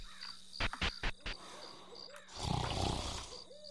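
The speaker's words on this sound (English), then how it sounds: "Snoring is too guttural to be Wade" A guttural snoring character in the video game Homesick, several short deep snorts close by, followed by a longer, louder rasping breath.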